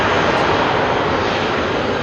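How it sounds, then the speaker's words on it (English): A Boeing 767 rolls for takeoff at night at Heathrow Airport, its jet engines producing a loud, continuous broadband roar that holds steady without any voices. "Here comes a 767 rolling on now."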